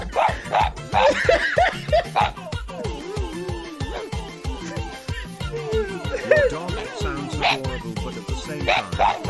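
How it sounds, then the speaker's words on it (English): A dog barks loudly and repeatedly in the video game The Stanley Parable, a rapid string of sharp yaps with laughter and chatter mixed in. "The barking was so loud, Stanley closed the door for some peace and quiet."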